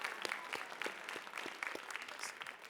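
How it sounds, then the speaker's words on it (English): A small crowd applauds steadily, a dense patter of many hands clapping at moderate distance with no voices standing out. "Another round of applause for our musicians."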